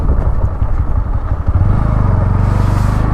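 Motorcycle ridden along a forest trail, its engine a steady close drone with clattering and scraping from the rough ground, rising to a sustained louder roar in the second half.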